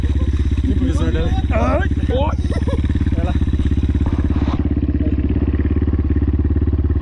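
Motorcycle on a dirt trail ride, its engine droning steadily and loudly throughout, with several people talking and calling out over it.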